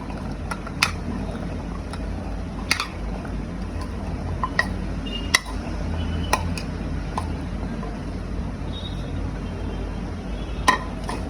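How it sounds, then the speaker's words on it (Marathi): Boiled chickpeas being tossed and coated with a spice paste in a bowl, giving soft, steady stirring with occasional sharp clinks of a utensil against the bowl, with no talking. "आता काबुली चणा सगळं एकत्र करून घेते कोटिंग करून घेते"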